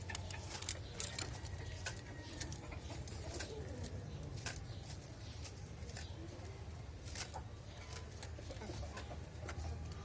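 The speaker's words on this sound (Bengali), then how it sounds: "ফার্মের রেসার কবুতর।" Racing pigeons on a farm, low scattered cooing mixed with light ticks and clucks, steady and fairly quiet throughout with no clear talk.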